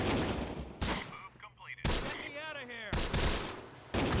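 Half-track gunfire in a Close Combat wartime strategy game: several sharp, loud bursts of fire and a descending whistling shell, with someone talking over and between the shots.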